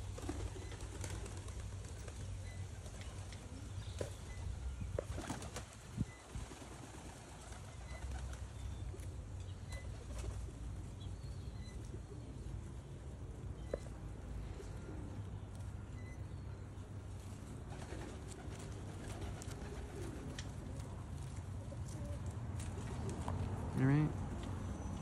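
Young racing pigeons cooing faintly amid quiet outdoor ambience, with a low background hum and a soft burst of wing flaps near the end, a voice talking intermittently.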